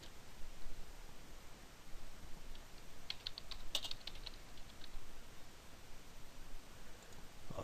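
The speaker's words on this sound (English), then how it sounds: "Type your name and password. I'll type in my name." Someone types a name on a computer keyboard while setting up a Kubuntu 14.04 LTS installation, producing a continuous run of close, light key clicks with a few sharper taps in the middle, no voice present.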